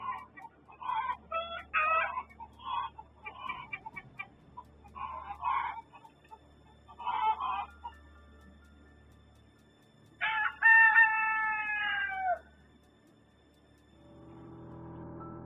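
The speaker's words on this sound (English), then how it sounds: "Listen to the birds in the background before and while the figure appears." Rooster crowing and clucking outdoors in the background, several repeated calls with pauses between, then one long loud crow near the end.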